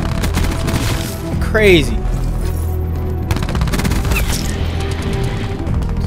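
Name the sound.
Switchblade X9 SMG firing in a video game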